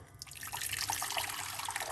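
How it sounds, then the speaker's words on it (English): Hot water pours steadily into a pot, a continuous splashing stream with a slight bubbling texture, no talking. "some hot water. That's the first thing that we're gonna put inside of the pot."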